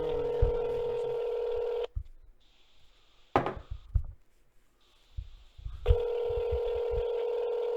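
Telephone call being placed: a sustained dial tone cuts off, then a burst of dialing tones and clicks, a pause, and a steady ringback tone resumes, heard fairly close and clear with no talking over it.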